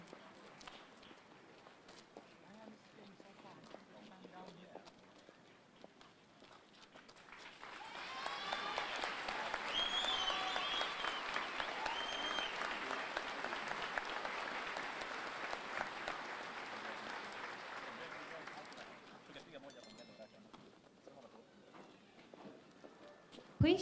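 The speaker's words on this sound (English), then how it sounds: "Please join me in a round of applause for our retiree and their families." A crowd at an Army basic training graduation ceremony gives retirees a sustained round of applause, swelling to a dense roar of clapping for about ten seconds before tapering off, with faint background sounds at the start and end.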